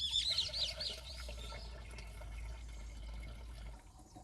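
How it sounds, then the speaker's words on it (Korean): Water poured into a container of measured pesticide for mixing in a sesame field, a soft continuous trickle and splash, fairly faint, steady with a brighter gush at the start. "물을 부어줍니다."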